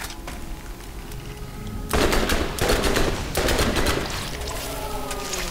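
Submachine gun fire in Borderlands comes in several loud, rapid bursts, near and sharp, separated by short pauses over faint game ambience.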